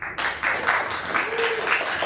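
A student audience at a school debate gives a candidate a warm round of applause. The clapping starts abruptly and stays steady and moderately loud, with brief pulses and a faint voice underneath.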